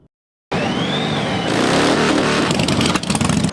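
Motorcycles on a 9/11 memorial ride rev their engines together in a loud, continuous roar that builds and swells, with a few sharper throttle bursts near the end after a brief silent start.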